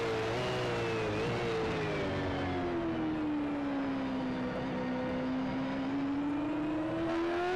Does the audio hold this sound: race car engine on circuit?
yes